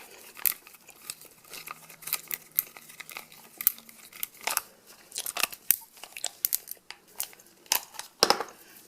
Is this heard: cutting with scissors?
yes